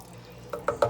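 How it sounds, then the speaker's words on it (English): Water poured into a pot of minestrone soup, a few brief close splashes and glugs after a quiet start. "thin this out with a bit of water. I added about 3 cups more of water right now."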